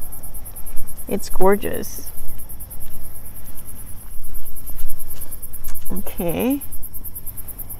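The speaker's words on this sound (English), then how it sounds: "All the little insects and creatures, they are playing their symphony." Insects chirp in the afternoon as a dense, rapid, high-pitched pulsing that carries steadily throughout, with someone speaking briefly over it twice.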